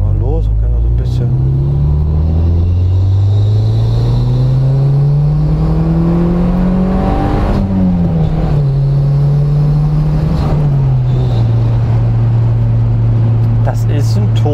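A turbocharged 1991 Toyota Celica Turbo 4WD pulls away from close by, its engine note climbing steadily as revs build, then dipping and settling into a steady drone.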